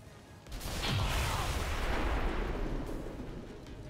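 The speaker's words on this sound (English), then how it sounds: "The explosion took him down just a bit." A deep explosion in XCOM 2 erupts after a brief lead-in, a single heavy boom with a rumbling roar that slowly decays over a few seconds, moderately loud.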